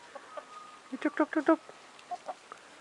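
Several short, soft clucks from chickens close by, in a loose irregular cluster with a few quieter calls before and after.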